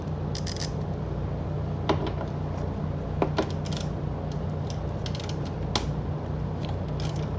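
A 10 mm wrench works a bolt while a Rivco hitch goes onto a Honda Goldwing, giving faint scattered metallic clicks and ratchety ticks over a steady low hum, with no talk.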